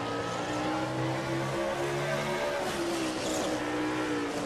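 Racing trucks in a short-track truck series video game at South Boston, engines droning steadily with tires squealing and skidding as the trucks run close together, loud and continuous with no talk.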